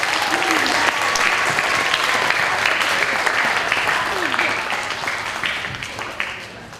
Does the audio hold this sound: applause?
yes